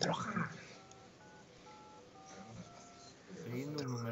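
Telephone number dialed in-game in Resident Evil 7, a run of short steady keypad tones stepping through the digits at moderate level beneath faint background ambience, with talking returning at the end.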